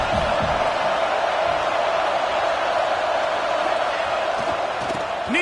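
A stadium crowd roaring on a fourth-down play in an Auburn vs Florida college football game, a dense, continuous far-off wall of cheering with occasional louder shouts.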